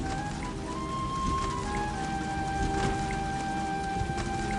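Heavy rain pours down in an animated scene, a thick, constant hiss of drops striking surfaces, steady and even throughout with faint tonal hums underneath and no talking.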